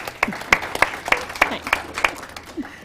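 Audience applause for Amanda, a governance network lead, at a youth leadership caucus: a thin patter of claps with distinct individual hand claps landing in a loose, roughly regular rhythm, moderately close.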